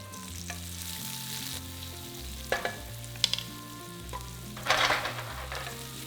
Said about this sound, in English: Get some olive oil hot in a pan and fry off your garlic for 1 minute before throwing in your onions